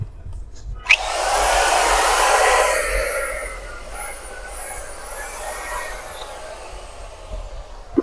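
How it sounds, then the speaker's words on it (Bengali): A 7-inch circular saw switches on and spins up to a loud, steady high-pitched whine that fades as it winds down over several seconds, heard alone. "এটা হচ্ছে সার্কুলার মেশিন। একটু চালু করে দেখি, চালু করে দেখাই দেবো ভালো।"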